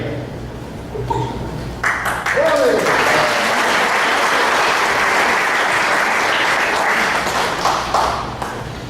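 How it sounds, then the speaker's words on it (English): Audience at a Lehigh Valley Tea Party general meeting breaking into loud, sustained applause that swells after a brief pause and holds steady before tapering, with a faint tone and some voices mixed in. "Don't clap so loud."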